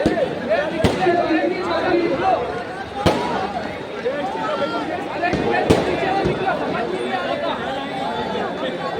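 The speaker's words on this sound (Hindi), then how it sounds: "पटाखेबाजी है, आतिशबाजी है" Firecrackers and fireworks pop now and then as loud, sharp bangs over the steady chatter of a crowd talking nearby at a night victory celebration at a street square in Malegaon, India.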